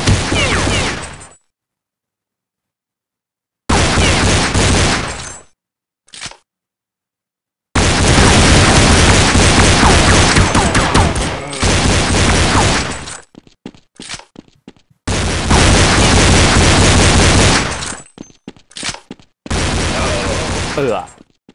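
Gunfire in the Counter-Strike 1.6 video game, inside an elevator: loud, close bursts of rapid shots broken by silent gaps, with sharp pops and trailing clatter.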